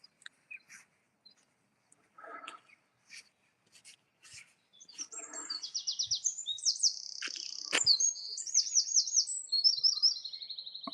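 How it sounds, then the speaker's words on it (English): Birds call high overhead along an urban trail, first as faint scattered chirps, then as a steady run of repeated, clear, high-pitched calls in the second half, with no talking. "Let's see what them birds were."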